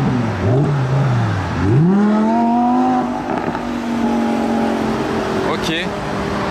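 A Sterato sports car on the Gumball 3000 rally revs and then accelerates hard, its engine note climbing and then holding a strained, rising tone close by, with people talking over it.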